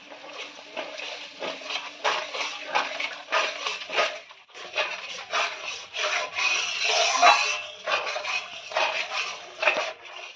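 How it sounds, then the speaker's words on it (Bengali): Ginger and spice paste with a little Kashmiri chilli being stir-fried in a pan for a pure-veg cauliflower rezala, heard as repeated scraping and rubbing strokes of a spatula, close and rhythmic, over a faint sizzle. "এবার মশলাটাকে আমরা ভালো করে কষিয়ে নেব।"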